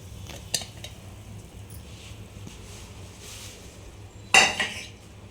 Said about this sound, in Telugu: బాగా పైకి కిందికి కలుపుకోవాలి.